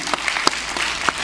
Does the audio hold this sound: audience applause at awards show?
yes